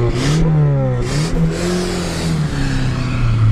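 A car engine revs hard as it struggles to climb a snowy slope. The pitch rises and falls in repeated loud surges, heard close up with no talking.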